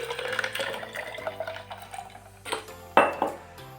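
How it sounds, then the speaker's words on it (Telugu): A glass of water poured into a bottle for a chaat masala lemon juice, heard as a steady close splash and trickle ending in louder clinks and knocks of the glass. "ఒక గ్లాస్ వాటర్ పోసుకోవాలి."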